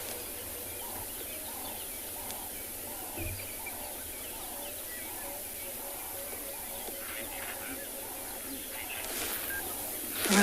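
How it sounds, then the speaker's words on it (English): Distant birdlife on a sunrise safari drive at Tswalu in the Kalahari, with a Verreaux's eagle owl and a woodpecker calling far off: a steady series of soft, evenly spaced low hoots over constant hissing ambience. "You can hear a woodpecker, a Verreaux's eagle owl in the distance."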